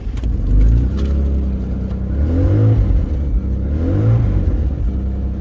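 An MG ZT 190 engine, with a weak battery and no fuel, cranks and fires, then revs in two rising and falling swells at close range before settling into a rough idle.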